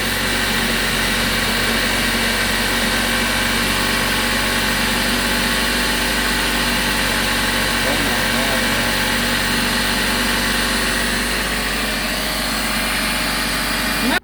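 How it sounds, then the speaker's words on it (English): A Ninja blender runs steadily while blending a wild greens pesto, its motor giving a loud, continuous whir with no pauses. "The Ninja blender."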